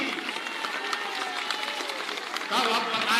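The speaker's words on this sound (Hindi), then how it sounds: "बजा लो ताली।" A crowd at an outdoor political rally in Bihar breaks into steady clapping, a dense spattering applause under a speaker's amplified voice that swells louder toward the end.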